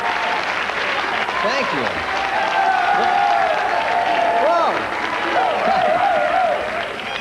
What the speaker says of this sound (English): It's the suit you're applauding.